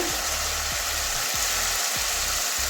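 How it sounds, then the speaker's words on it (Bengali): Spice paste with chili sizzles in hot oil for sesame chicken, a steady close frying hiss with low rhythmic scraping or stirring thumps recurring about every half second. "কষিয়ে নিচ্ছি এই যে মশলা থেকে তেল ছেড়ে দিয়েছে"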